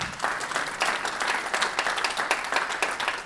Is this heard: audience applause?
yes